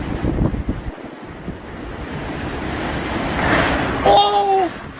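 Hurricane Beryl's strong wind roars in the Caribbean as a steady, dense rush of noise with buffeting gusts. It swells toward the end, where a brief whining tone cuts through.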